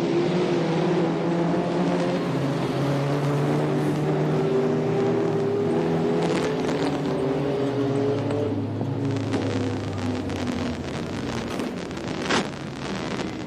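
Race cars roar around a speedway track at Maryborough, several engines droning and overlapping with shifting pitch at mid distance, buffeted by wind noise, with no voices.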